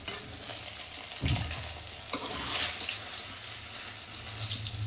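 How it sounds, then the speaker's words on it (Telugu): Water runs steadily over a stone grinding mortar as it is rinsed, a close, continuous splashing rush with a few heavier spatters and no talk. "ఇప్పుడు రోలు కడగాలి"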